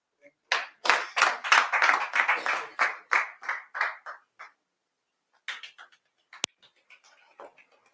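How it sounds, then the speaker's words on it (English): An audience claps for a speaker at a real-estate sales event, a dense burst of hand claps for about four seconds that thins into a few scattered claps and a sharp final clap, with no talking. "Please let's clap for her once again."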